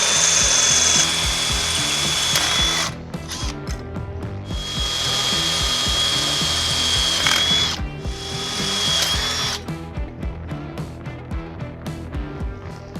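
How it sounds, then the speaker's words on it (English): A power drill whines in bursts as it bores out rivets on a car exhaust, with high steady drilling stretches broken by short pauses and rattling, scraping metal contact, close up and loud. "we'll go ahead and drill out these rivets"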